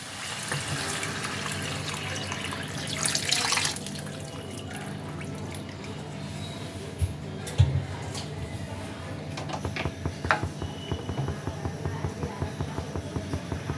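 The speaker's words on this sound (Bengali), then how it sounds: "এবার আমি এর মধ্যে দিয়ে দেব তৈরি করে রাখা চিকেন স্টকটা।" Prepared chicken stock poured into a pot of simmering chicken vegetable soup makes a steady watery rush that swells briefly. Scattered drips and small clinks follow, all at close range.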